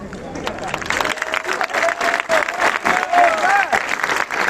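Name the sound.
audience applause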